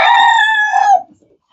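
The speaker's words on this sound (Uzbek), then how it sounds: "Bular o'sha qizil tovuqlardan ekan bular. Qizil tovuqdan. Forbek degan zotdan." A red Forbek-breed rooster crows once, loud and close, a bright harmonic call lasting about a second before cutting off into silence.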